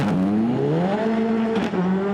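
Peugeot rallycross car at World RX of Türkiye free practice, its engine revving loud and close with rising and falling harmonic pitch sweeps, a brief dip near the end, with no talk over it.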